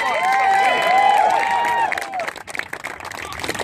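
Wedding guests in Mozambique cheer and clap loudly, high voices and ululation-like calls ringing out at first, then giving way to scattered claps and crowd noise.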